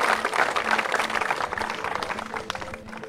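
Audience applause welcoming the first player onto a game show stage, a broad wash of clapping that fades gradually while music and crowd noise play underneath.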